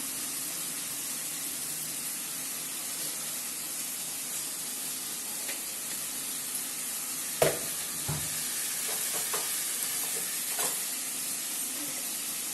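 Hot oil sizzles steadily in a pan for kathirikkai kulambu, a Tamil eggplant curry, with a continuous hiss and a few sharp crackles and clinks near the middle.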